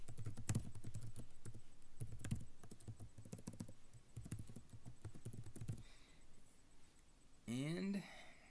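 Rapid clicking of computer keyboard keys as server details are typed for a remote desktop connection, a dense burst of close keystrokes followed by a pause and a short electronic swoosh at the end.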